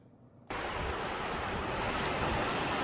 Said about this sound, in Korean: 물소리가 계곡이 얼마나 우렁차게 되는지요 시끄럽게 들리지 않습니까?